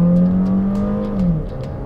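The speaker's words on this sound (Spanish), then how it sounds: "Ahí se dispara el turbo." A Jeep Renegade with a turbo engine under hard acceleration, its close, steady engine tone rising smoothly in pitch and then dropping as the gear changes.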